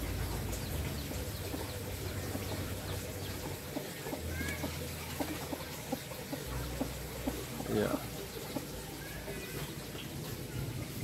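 Free-range village chickens with roosters clucking softly, scattered short calls over a low hum and outdoor background, moderately close but not loud.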